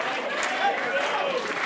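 Wrestling crowd at a Chaotic Wrestling show in Tewksbury, Massachusetts, cheering and chattering in a steady, dense roar with scattered shouts, filling the hall without a break.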